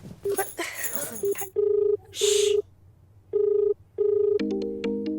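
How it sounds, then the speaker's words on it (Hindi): A phone gives several short electronic tone bursts in an irregular pattern, ending in a quick run of beeps, with brief background noise between. "देखो किसका फोन है"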